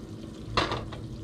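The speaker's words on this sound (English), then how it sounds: "It's mayo frying in its own oil." Mayonnaise and egg frying in a pan in their own oil, giving a soft steady sizzle with a sharp clatter of a utensil against the pan midway and a few lighter scrapes after.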